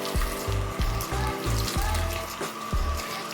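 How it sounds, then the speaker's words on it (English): Tap water runs into a bathroom sink while a beauty blender sponge is rinsed and squeezed, giving a splashing, gurgling flow broken by repeated low squelches and drips, close and fairly loud. "So run it under the water and then squeeze it out"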